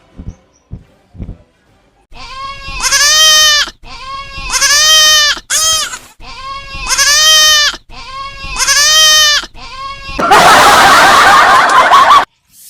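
Several loud goat bleats in a row, each a wavering cry lasting about a second, ending in a burst of rough noise; a few soft clicks come first.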